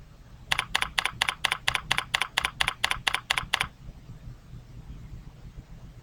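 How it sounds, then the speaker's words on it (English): Quick burst of roughly a dozen evenly spaced keystrokes on a computer keyboard, close and crisp, then stopping abruptly into a quiet room hum. "We will type a brief description"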